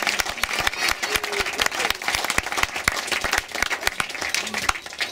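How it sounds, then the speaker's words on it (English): Wedding guests applaud the bridesmaids at a reception, many hands clapping close and loud in a dense uneven patter that carries on for several seconds with some voices mixed in. "Come on, give them a round of applause, everyone, for their effort."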